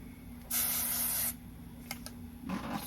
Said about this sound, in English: Hit the hairspray.